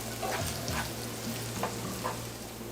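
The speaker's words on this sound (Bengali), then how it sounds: "এবার এই পেঁয়াজ কুচিটাকে ব্রাউন করে ভেজে নিতে হবে।" Chopped onion fries in a pan until brown, giving a soft, continuous sizzle with faint scraping stir strokes at a fairly quiet, close level.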